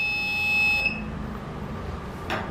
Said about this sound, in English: So we'll get the beep sound when it is detected.